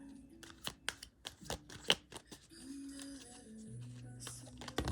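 Tarot cards drawn and flipped from a deck during a reading, several quick close flicks and slaps in a rapid series, with faint tonal background sound and no speech.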